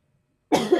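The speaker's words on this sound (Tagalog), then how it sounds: "Tagal na yung ubo mo?" A single short, close cough bursts out after a moment of silence.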